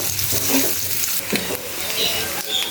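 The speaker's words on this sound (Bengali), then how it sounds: "এবার ভালোভাবে একে ভেজে নেব।" A handful each of onion and garlic fry in a pan, producing a loud, close, continuous sizzle with scraping and stirring noises from a spatula throughout.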